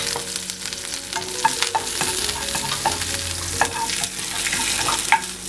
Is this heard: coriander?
yes